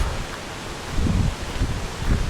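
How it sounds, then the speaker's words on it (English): Breezy wind buffets a hillside camp near Glen Doll and Loch Rannoch, a steady broadband rush with stronger gusts swelling now and then, close to the microphone and unaccompanied by talk. "It's quite a breezy, I would say."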